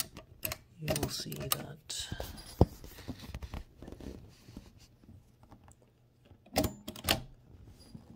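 Typing on a 1925 AEG Mignon 4 index typewriter yields light mechanical clicks and ratchet ticks in small clusters, close by, with someone talking over much of it.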